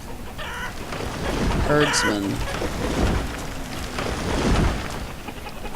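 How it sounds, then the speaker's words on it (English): Chickens cluck in short bursts in the village-building game Banished, heard over a heavy bed of rain and rumbling thunder, with a brief spoken word. "Oh, chickens."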